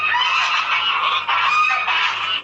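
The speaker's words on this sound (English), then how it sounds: "Oh no, it's a gaggle of geese, and they're coming for her." A gaggle of geese honking loudly and close by, a continuous overlapping chorus of harsh calls in a few swelling bursts.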